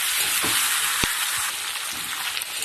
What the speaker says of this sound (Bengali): এবারে মেখে রাখা ডালটা আমি দিয়ে দেবো দিয়ে দু মিনিট ধরে ডালটাকে বেশ ভালোভাবে ভেজে নেব